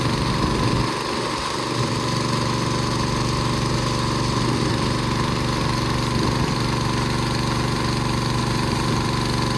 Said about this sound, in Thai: เอาเครื่อง ดูดน้ำมาดูดให้ใส่นา